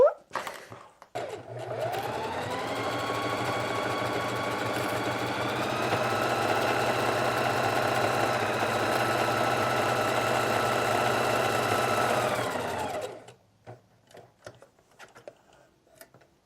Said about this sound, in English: now we're going to sew 3/8 of an inch seam allowance on the shoulders